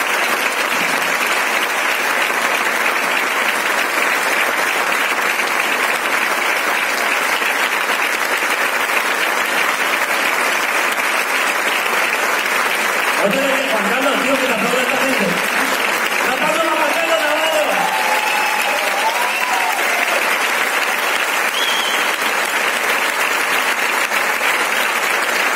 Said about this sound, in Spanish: pido no un aplauso, no ovación para este puto crack